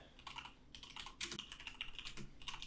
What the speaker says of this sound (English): So let's just type in